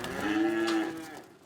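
Cattle at an old-time stockyard in Oklahoma City give a single drawn-out moo, fairly close and clear over a faint background, with no talk.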